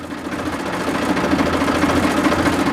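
A Ford tractor engine runs steadily close by as the tractor rolls into a home, a constant low, throbbing drone that stays even and loud.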